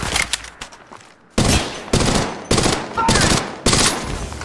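Rapid automatic gunfire in Apex Legends Mobile comes in loud, close bursts following one another at roughly one-second intervals, each a dense rattle of shots, preceded by a few scattered quieter shots.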